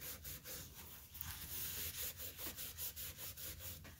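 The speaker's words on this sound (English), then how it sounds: "So we're just going to rub this down." Steady back-and-forth rubbing as sticky residue is cleaned off a book cover with Goo Gone, a soft rhythmic scrubbing of even strokes, close and quiet.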